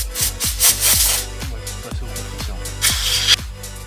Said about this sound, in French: Et maintenant la cuve, je sais pas si je vais réussir à nettoyer grand chose